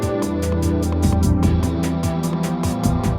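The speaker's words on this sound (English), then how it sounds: "this effect sounds really good for those of you who are wearing headphones" An auto-panned sound effect in the PlayStation game Fluid pulses rhythmically in bright bursts over a dense electronic music loop, loud and continuous with no voices.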